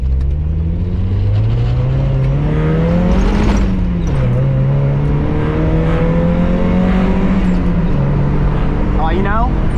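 A 1991 Mazda Miata engine held at full throttle, loud and close with a sustained rising drone that climbs, dips at a shift, then climbs again throughout.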